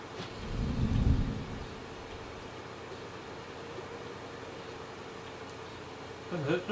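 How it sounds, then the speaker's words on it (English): A deep rumble of thunder swells early and fades in The Last Of Us video game. A low, steady hiss of rain continues beneath it, and a faint noise rises near the end. "So this is thunder."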